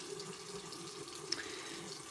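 A bathroom or kitchen tap runs as warm water is let through before filling a sonic cleaner, a soft steady stream of flow heard alone at low level.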